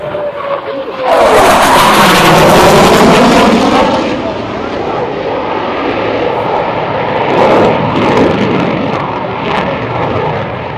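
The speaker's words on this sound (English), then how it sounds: "will reposition his FA-18 for the high-speed photo pass" An F/A-18 fighter jet makes a high-speed photo pass at an air show over a ship: a loud roaring jet rushes in, peaks, then fades into a lingering rumble, with a voice underneath.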